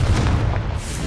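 A Confringo spell explodes in Hogwarts Legacy with a deep, booming blast that rolls on through a short, dense low rumble, heard up close.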